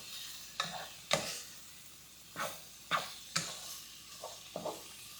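Ground meat browns in a pot over medium heat for chili, with a spoon stirring and scraping in separate bursts over a steady sizzle, close and fairly quiet.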